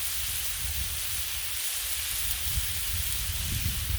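Steady sizzling of bacon frying on a Blackstone griddle, a continuous close hiss with faint crackles and low bubbling underneath, no voices.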